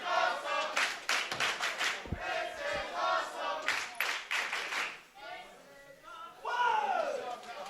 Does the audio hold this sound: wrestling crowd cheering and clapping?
yes